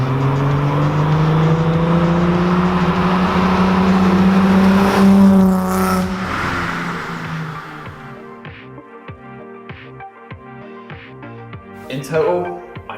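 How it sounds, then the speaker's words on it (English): A 1984 Datsun 300ZX Z31 with its naturally aspirated VG30E V6 runs loudly up close, a strong steady engine tone that swells, then gives way to music before a brief final rev. "This model is only the NA VG30E, which is a V6 engine, pretty lazy, but it gets the job done and it sounds absolutely gorgeous."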